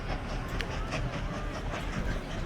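A train runs in the railway-building video game Mashinky, a steady rumbling roll with faint clickety-clack over a dense, even hum, moderately quiet and continuous.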